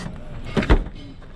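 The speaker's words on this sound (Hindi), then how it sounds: "आप दरवाज़ा पुश करो" A car door pushed shut by a passenger, giving two close, moderately loud thumps about a tenth of a second apart over a steady low background hum.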